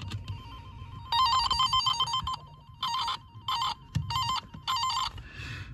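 Wire tracer toner probe chirping in the wiring of a 2001 Chevrolet Tahoe, a close, trilling electronic warble that comes in several bursts of varying length separated by short gaps, with faint handling noise beneath.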